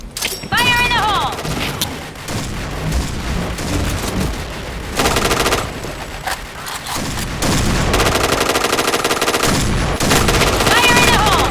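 A shooter video game fills the scene with loud, close bursts of rapid automatic gunfire, heavy booms and short pauses between the volleys.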